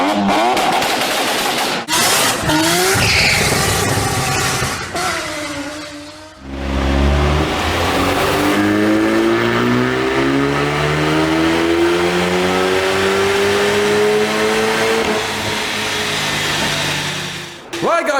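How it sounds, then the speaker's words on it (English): A Hyundai i30 N with a Stage 2 tune and flexi pipe, strapped down on a dyno, revs hard through a long pull, engine note climbing steadily and loud throughout, with a brief shift and a drop at the end. "We're going to get a dyno pull"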